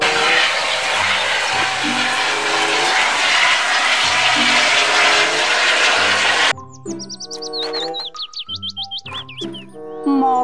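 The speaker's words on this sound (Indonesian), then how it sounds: "Helikopter." A toy helicopter gives a loud, continuous whirring rush for several seconds, then switches to bright electronic chirping and warbling tones in quick bursts.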